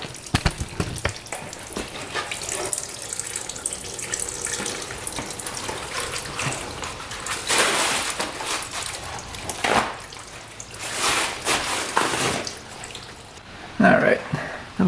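Coolant pours and splashes steadily from a freshly rebuilt UTV engine, a continuous trickling gush with a few louder surges and brief clanks near the end.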